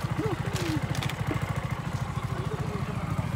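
A KTM motorcycle engine runs at a steady idle close by, its even low throb continuing with a faint voice briefly over it.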